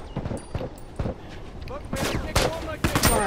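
Gunfire in a first-person shooter video game: sharp, loud shots arrive in irregular bursts, sparse early and then heavier and rapid, with voices talking over the action.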